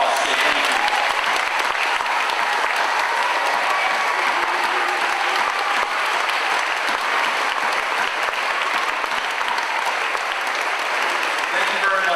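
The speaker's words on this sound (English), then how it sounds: "Let's give them a round of applause." Loud, sustained applause from a crowd of students and parents at a middle school Veterans Day assembly, honoring standing veterans; a dense, steady roar of clapping throughout with no gaps.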